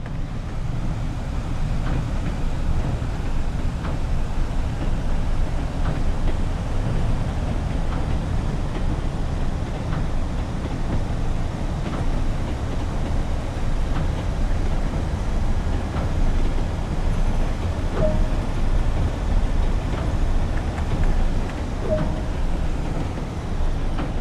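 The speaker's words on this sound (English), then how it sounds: "Observe that the train now has the ability to accelerate to a higher speed." A Class 37 diesel locomotive accelerates on the Tees Valley Line in Train Sim World, a steady, loud engine drone with rumbling wheels and faint rail clicks running continuously throughout.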